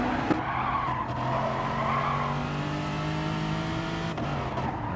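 A race car skids and slides off onto the grass at the Nürburgring, its engine droning steadily with tire scrubbing and brief sharp jolts, loud and close throughout.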